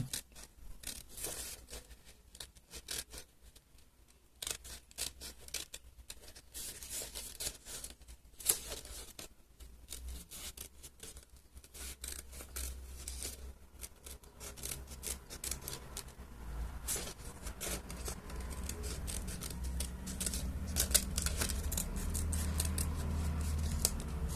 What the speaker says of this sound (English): we're going to commence our eye cutting